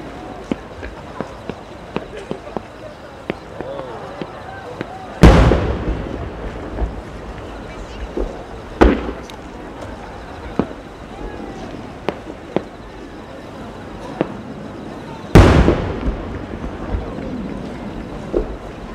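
Two loud, sharp firework booms several seconds apart at the Omagari fireworks festival, each with a long rumbling tail, over a steady windy background with scattered small pops.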